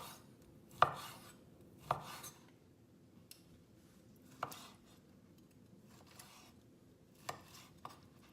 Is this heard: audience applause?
no